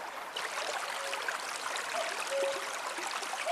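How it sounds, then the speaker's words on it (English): A river flowing steadily outdoors in springtime countryside, a continuous broad rushing wash of water close by, with faint bird calls dotted over it and no talking. "I have to say, the river sounds gorgeous"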